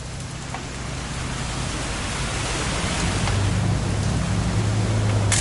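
Heavy rain falls in a video game, a broad, constant roaring wash of noise that swells slightly louder over a few seconds, with a low rumble underneath and no voices.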